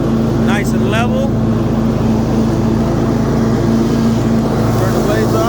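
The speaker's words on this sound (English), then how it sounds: "Turn the blades off, idle her back down for you." A Cub Cadet RZT 50-inch zero turn riding lawn mower runs close by with a loud, steady engine drone, holding even throughout, and brief higher mechanical tones rise over it near the start.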